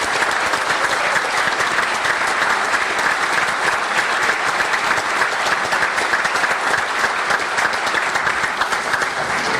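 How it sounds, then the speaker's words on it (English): An audience gives sustained, even applause for the parents of scholar athletes at a college football awards gathering tied to the Sugar Bowl. The clapping is uniform and fills the whole stretch without a break. "I'd like all the parents of these scholar athletes, please stand, have a round of applause"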